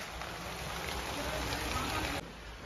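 Steady, dense rain pours down in Coorg during a summer hailstorm, a close, unbroken hiss that briefly dips near the end before resuming.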